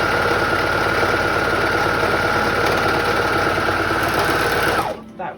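A sewing machine runs steadily, stitching a dress fabric for holiday dressmaking, its fast even hum and needle chatter loud and continuous before stopping abruptly near the end.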